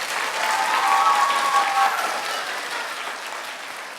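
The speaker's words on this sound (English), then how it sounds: "Can we have a round of applause for Summer, Callie, and Austin?" An audience at a school assembly clapping in a steady round of applause that swells, then gently tapers, heard close with no talk over it.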